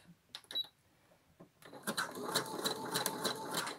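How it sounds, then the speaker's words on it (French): Sewing machine zigzag stitching elastic onto a sleeve: a few faint clicks and taps at first, then a steady, close whirring run of rapid stitching for the last two seconds. "Je passe tout ça sous le pied de biche. Voilà, je cale ça. Et je couds sur un petit centimètre le zigzag."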